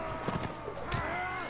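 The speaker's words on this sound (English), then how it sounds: "Hey, don't hit my horse." Horse hooves clip-clopping in the Mount and Blade: Warband video game during a battle, a few soft hoofbeats mixed into busy game noise and clashing.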